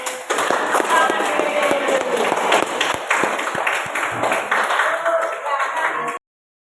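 A classroom of students bursts into applause, a dense, steady patter of many hands clapping loudly for about six seconds before it cuts off abruptly.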